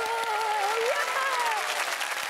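A crowd applauds a Labradoodle at a dog competition, steady broadband clapping and cheering throughout, with a commentator's voice and whistle-like tones riding over the noise.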